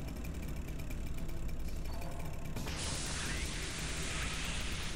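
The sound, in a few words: welding a door in the video game Alien Swarm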